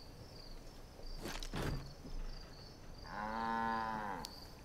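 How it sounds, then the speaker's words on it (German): Cattle mooing in the Far Cry 5 video game: one long, loud, drawn-out moo rises near the end, preceded by a couple of sharp clatters and faint insect chirps in a quiet outdoor ambience. "Da kommen die Kühe wieder."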